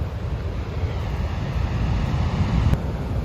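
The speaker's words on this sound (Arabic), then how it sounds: "ده تقريبا اكبر موج انا شفته في حياتي،" Big ocean waves pound an Icelandic black sand beach in a continuous deep roar of surf, mixed with heavy wind buffeting the microphone and no pause in the churning noise.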